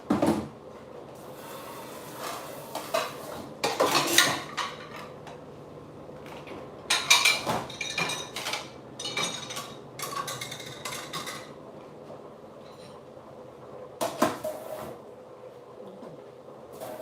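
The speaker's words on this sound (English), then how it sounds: "now I'm going to start putting dirty dishes in the dishwasher." Dirty dishes going into a home dishwasher, with irregular bursts of clinking plates, cutlery clatter and rack rattles separated by quieter pauses. The sounds are close, and no one speaks.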